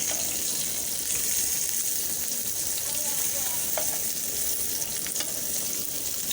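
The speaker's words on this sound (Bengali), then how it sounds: "এখন আমি এটা মিডিয়াম আঁচে সম্পূর্ণটা ভেজে নেব" Eggplant frying in a pan over medium heat with spices, a steady broadband sizzle and crackle running throughout, fairly loud and close, with a few faint clinks and stirring touches.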